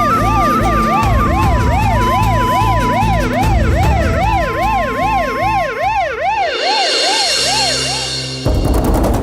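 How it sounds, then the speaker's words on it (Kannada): An ambulance siren wails loud and close in steady repeating up-and-down sweeps over a low rumble, sounding alone and cutting off abruptly near the end. "ಆಂಬ್ಯುಲೆನ್ಸ್ ಬಂದ್ ನೋಡಿ ಸರ್."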